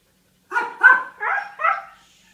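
A Siberian Husky and a Yorkshire Terrier barking, four close, distinct barks in quick succession against a quiet background.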